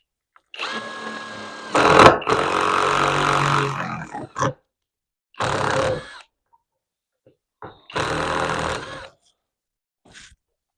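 A SKIL electric drill bores into oak in several separate bursts of whirring motor noise, the first one long and loud, the later ones shorter, with brief quiet gaps between them.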